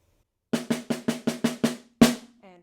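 Snare drum playing a short etude measure: seven crisp, evenly spaced strokes followed by a louder accented hit that rings briefly, played alone and close.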